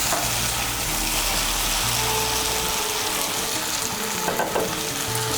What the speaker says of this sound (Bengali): এখন এর মধ্যে দিয়ে দেবো ভেজে রাখা আলু।